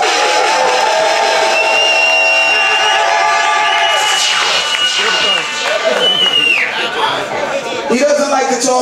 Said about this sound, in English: Give Koji a round of applause.